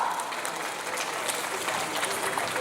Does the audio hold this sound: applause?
yes